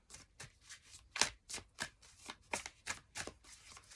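Tarot cards are shuffled by hand before a draw, about a dozen crisp, papery riffles in a steady rhythm. The sound is quiet and close with no talking.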